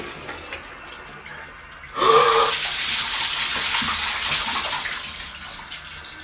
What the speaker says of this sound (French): vous m'avez tous dit de tirer la chasse d'eau